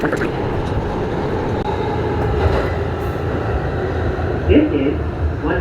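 An R211A subway train running northbound on the New York B line, a loud steady rumble of rail noise heard from inside the car with faint squeals and clatter.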